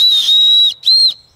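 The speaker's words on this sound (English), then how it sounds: "Is that a whistle?" A loud, steady whistle blown in a haunted forest, sounding in two long blasts with a short gap between them.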